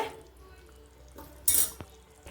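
Spoon stirring egg gravy in a pot, soft scraping with a louder clatter of utensil against metal near the middle, then a brief clink, quiet and close with no talking.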